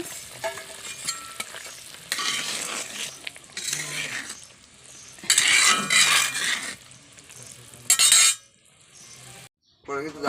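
Fried snakehead fish goes into a boiling fish curry in a pot and gets stirred, giving bursts of sizzling and bubbling with metal spoon scrapes and clinks against the pot, broken by short quiet gaps.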